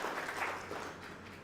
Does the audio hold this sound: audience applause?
yes